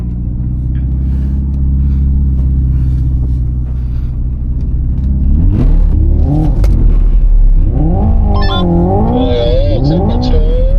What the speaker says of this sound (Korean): 자, 다음 차량 진입할게요.